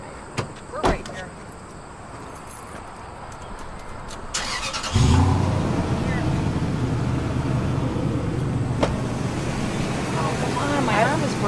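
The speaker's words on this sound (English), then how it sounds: "Turn the car on." A car in Detroit starts up after a couple of thumps, then its engine runs with a steady, close rumble under light background noise.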